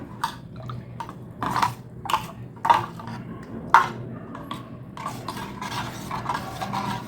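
Rava dosa batter being stirred in a bowl, a series of soft wet scraping and sloshing strokes in an irregular rhythm, close and fairly quiet, with a few sharper clinks of the spoon against the bowl.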